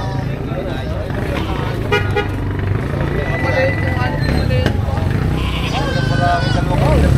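A goat bleats a few times amid a busy outdoor livestock market, with people talking and a vehicle horn tooting nearby.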